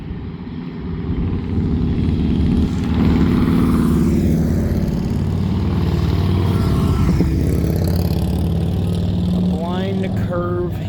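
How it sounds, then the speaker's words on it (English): A vehicle is heard on a posted 20 mph curving hill road, its engine and tyre roar building to a steady loud rush through most of the stretch, with someone talking over it. "There's somebody driving,"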